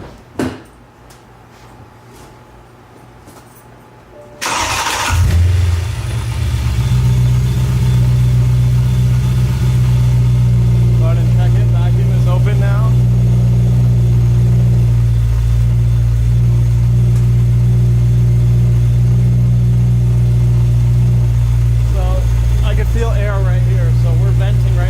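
A BMW E92 M3 fitted with a blow off valve cranks and starts after a few seconds of quiet clinking, then settles into a loud, steady low idle that drones on close by, with a voice talking briefly over it.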